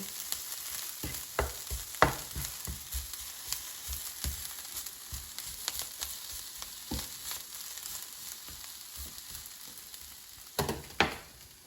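Kale sautéing in a frying pan sizzles steadily while a utensil stirs it, giving irregular scraping clicks and a few louder knocks, close and clear with no talk.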